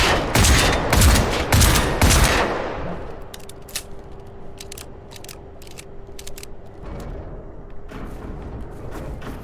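A loud burst of rapid gunfire from the open-world shooter Generation Zero, dense crackling shots for about two seconds that fade into an echoing tail, followed by scattered faint sharp shots and a low steady hum.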